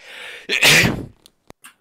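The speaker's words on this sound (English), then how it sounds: "tried to get that sentence done before the sneeze" During a motorsport interview, one person lets out a loud, close sneeze with a sharp burst after a brief intake of breath, followed by a few small clicks and a short sniff.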